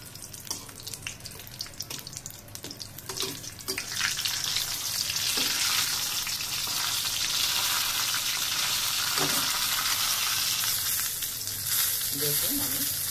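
Stored puri and singara are fried in a pan with leftover curry and stirred often. After a few clinks and scrapes at the start, a loud, steady sizzle rises and holds, broken by occasional stirring knocks.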